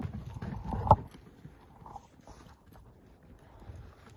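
A horse at a Kyrgyz farm walking on its hooves, giving a faint, irregular clip-clop with one sharper knock near the start, set against light wind noise.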